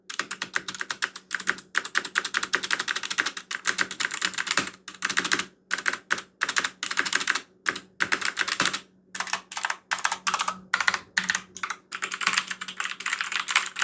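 Continuous typing on a new EVGA computer keyboard, dense clattering keystrokes close up with brief pauses between bursts, no talking.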